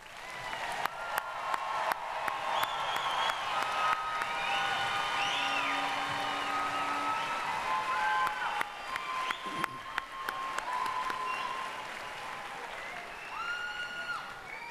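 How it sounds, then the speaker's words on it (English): A university commencement audience applauds the graduates, steady crowd clapping of moderate loudness with scattered whistles and cheering voices over it, lasting about fifteen seconds and thinning a little toward the end. "let's give our graduates one final round of applause"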